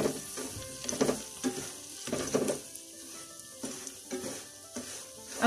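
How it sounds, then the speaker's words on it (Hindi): Semolina roasting in a pan over medium-low heat for suji halwa: a rhythmic series of spatula stirs and scrapes, loud and close, over a gentle frying sizzle. "अब सूजी को हम अच्छी तरह से भून लेंगे, लाइट गोल्डन करेंगे।"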